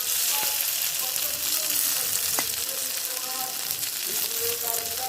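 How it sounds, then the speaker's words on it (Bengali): Paneer pieces frying briefly in oil in a pan, giving a loud, dense, steady hiss with a few light clicks and utensil taps throughout. "পনিরগুলোকে বেশি সময় ভাজবো না, অল্প একটু সময় এটাকে ভেজে নেব।"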